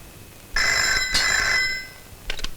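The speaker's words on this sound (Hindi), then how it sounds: "मधु, तुम्हारी माँ जी का फोन।" A telephone in a Hindi film scene rings loudly with a bright electronic trill lasting over a second, then a second ring begins after a short pause, with no talking.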